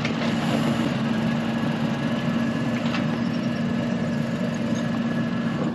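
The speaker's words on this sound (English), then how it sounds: "Rasha was a bit freaked out by the tractor there." Tractor engine running nearby, a loud, continuous low rumbling drone that holds steady for several seconds with no voices.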